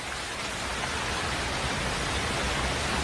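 Heavy rain pours down in a jungle, a dense, steady hiss with no let-up and no voices.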